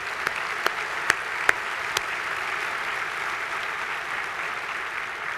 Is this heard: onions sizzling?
no